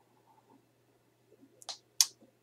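Computer mouse clicks while uploading a picture: two or three sharp, close, quiet clicks in near silence.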